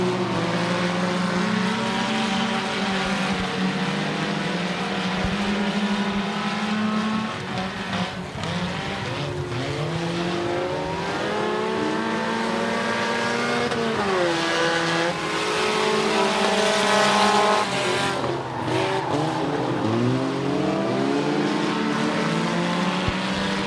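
Compact and hobby stock cars race around the US 30 Speedway track, engines roaring loudly and continuously as they rise and fall in pitch through acceleration and corners, with several cars passing close by.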